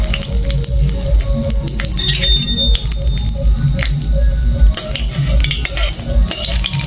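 Dried red chillies frying in hot oil in a pan while being stirred, making a loud, continuous sizzle and crackle with repeated scraping of the stirring utensil, close up and with no talk.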